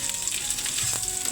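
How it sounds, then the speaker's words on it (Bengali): Potatoes frying in a pan in a home kitchen give off a steady, close sizzle with a faint crackle throughout, and no one speaks. "আলু ভাজা হচ্ছে, মাছটা ভেজে নিয়েছি"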